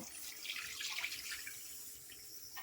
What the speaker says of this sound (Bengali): কড়াই গরম হয়ে গেছে, একটু জল দিলাম আমি